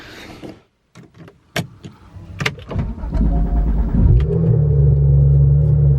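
A car pulling out of a residential neighborhood, starting with scattered clicks and handling thumps before the engine rumbles up and settles into a steady close drone inside the cabin.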